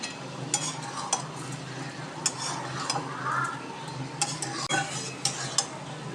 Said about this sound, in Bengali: চিনিটা ভালো করে নেড়ে আবার ঢাকা দিয়ে দেবো।